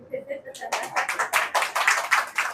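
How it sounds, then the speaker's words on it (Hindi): A crowd at a religious discourse in Guwahati, Assam, claps in a quick, dense burst that builds after a brief spoken phrase, the applause rhythmic and fairly close. "ताली तो बजाओ।"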